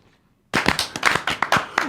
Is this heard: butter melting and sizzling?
no